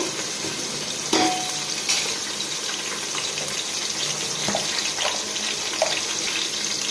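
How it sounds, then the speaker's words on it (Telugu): Onions fry over a medium flame for chicken biryani in a continuous close hiss, broken by a few sharp clicks and scrapes. "ఆనియన్స్ కూడా వేసేద్దాం. మనం కొద్దిగా మీడియంగా ఫ్లేమ్ ఉంచేసి వేయించేసుకుందాం."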